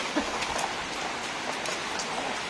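Heavy rain falling steadily as a dense, even wash of noise with scattered drops, close and loud, with no talk.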